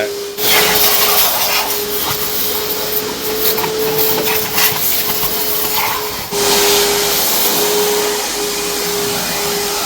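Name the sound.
vacuum cleaner sucking dust from a new car's interior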